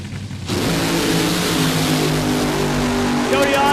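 A fuel altered drag racing car blasts down the strip on a 203 mph run, its engine a loud, sustained roar that jumps in after a brief quieter moment, with an announcer's voice over it.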